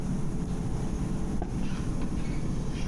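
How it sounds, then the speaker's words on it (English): Le Shuttle train carrying vehicles rolls through the Channel Tunnel, a steady low rumble and hiss of wheels on rails heard from inside, with faint metallic squeaks and no talk. "Enjoying your train ride?"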